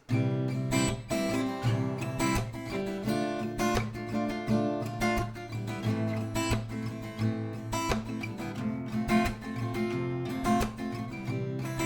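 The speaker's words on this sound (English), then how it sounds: "So that's the new strumming pattern here for the chorus." Steady acoustic guitar strumming the chorus pattern of a song, down and up strokes with accented beats, loud and close, with no voices.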